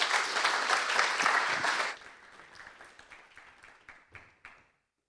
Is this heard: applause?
yes